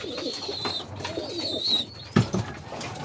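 Pigeons coo softly in a loft, low throaty calls repeating close by with a brief louder burst near the end, against a faint background hum.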